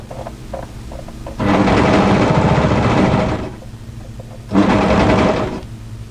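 An overlocker runs in two bursts, about three seconds and then under two, while sewing the seam of drop crotch joggers through to the cuff. It is loud and close, with quiet handling noise between the runs and no talk.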